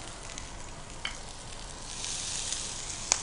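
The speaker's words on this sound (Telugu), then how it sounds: "ఇది మంచిగా మనం ఫ్రై చేసుకుందాం" Garlic, ginger and green chillies frying in oil, a quiet steady sizzle that swells louder partway through, with a couple of sharp clicks.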